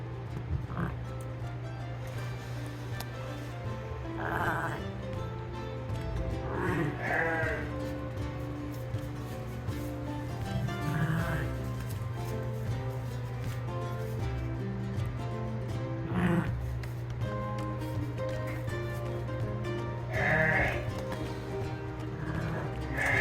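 A Shetland ewe bleats to her lambs on a farm, with repeated loud, close calls spaced several seconds apart over a steady low hum, and a few softer bleats between them.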